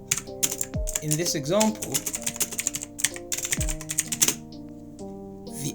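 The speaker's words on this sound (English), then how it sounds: "So I'll just type that out here." Typing on a computer keyboard, quick bursts of clicky keystrokes in irregular rhythm, close by, under a voice explaining code.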